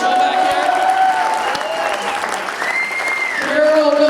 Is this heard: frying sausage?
no